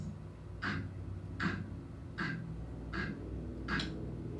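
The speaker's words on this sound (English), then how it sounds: "his camera makes a clicking sound like this." Five sharp mechanical clicks spaced evenly about a second apart, like a camera shutter firing repeatedly, over a low steady background hum.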